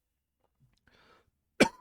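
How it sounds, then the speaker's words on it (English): A single sharp cough from a person with emphysema and COPD follows faint rustling and a soft throat sound, loud and close. "Apologies for the coughing."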